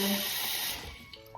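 A paintbrush is swirled in a container of dirty water to wash it, giving a close, splashy hiss of running and sloshing water that fades after a second, followed by a couple of small drips.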